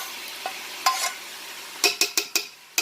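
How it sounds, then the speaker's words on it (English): Onions and bell pepper for homemade pasta sauce cook in a large pot with a faint sizzle, broken by a run of sharp spoon scrapes and knocks against the pot. "I'm going to add my onions and bell pepper off in this pot too"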